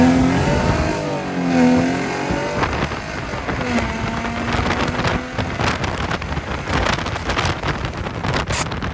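A Mercedes SLK320 engine on a stripped, lightened build revs hard under a nitrous pull, with rising and falling pitch sweeps as the RPMs climb through the gears, buried in heavy wind buffeting across the microphone.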